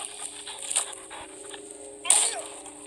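Quick, breathy panting from a dog in the video game Into the Dead 2 comes in soft rhythmic bursts over a steady electronic hum, with a brief sharp noise near the end.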